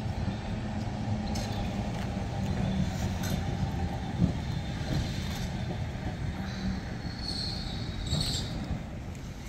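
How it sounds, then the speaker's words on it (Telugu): A tram runs on rails in Ballarat, Australia, giving a low steady rumble with faint wheel squeals and light metallic clinks over about nine seconds, at moderate distance. "ఇందాక మనం ఎక్కిన ట్రాము"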